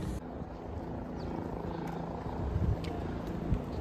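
A helicopter flies over the Kedar valley on the Kedarnath route, heard as a steady, distant rotor drone blended with broadband wind and outdoor noise, with no talking.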